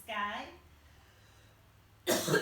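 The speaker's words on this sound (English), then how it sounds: "I'm having a coughing fit" A single short cough from a woman leading a gentle yoga class, close and fairly clear, followed by a brief quiet pause before another burst of sound.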